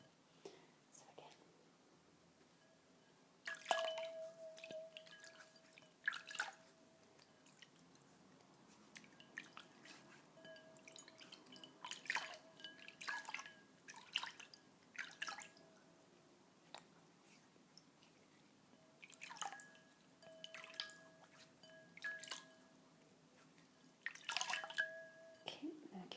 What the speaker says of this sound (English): I'm just going to quickly wash my hands, just because I've got a bit of blush on them